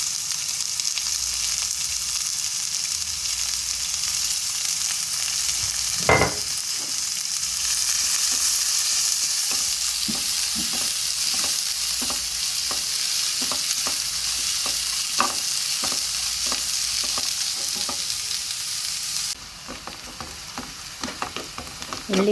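Three large onions sizzle in hot ghee for mutton biryani while being stirred, giving a loud, steady frying hiss punctuated by regular scraping clicks of the spoon against the pan.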